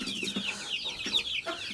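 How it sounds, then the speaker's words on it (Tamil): Chickens and baby chicks cluck and peep inside a coop on a small farm, a steady stream of high cheeping over low clucks, close and continuous. "அந்த கூட்டுக்குள்ள இருந்த கோழிகள், baby chicks"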